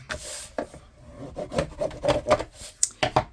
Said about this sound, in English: I'm going to go ahead and burnish all of that tape